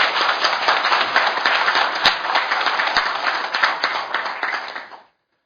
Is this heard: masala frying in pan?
no